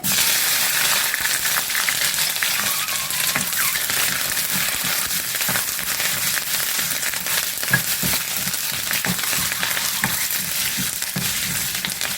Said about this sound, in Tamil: வெந்தயம் கடுகுலாம் நல்லா பொரிஞ்சிருச்சு